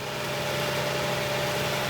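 A Subaru Outback engine fitted with a new full exhaust runs steadily nearby, a constant low rumbling idle with an even hum and no breaks or revving.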